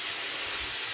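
Burgers sizzling in a shallow frying pan, a steady, close, bright hiss of hot fat with no voices over it.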